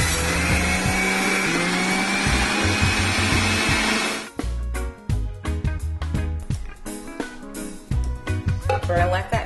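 An electric juicer runs with a steady, loud whirring grind for about four seconds while juicing strawberries and cucumber, then cuts off into clattering and knocking sounds of handling.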